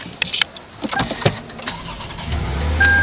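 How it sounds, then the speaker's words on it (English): A 2010 Lexus RX350 starts up: clicks and chimes inside the car, then the engine cranks and catches into a low steady idle, close by with no talk. "Engine started right up."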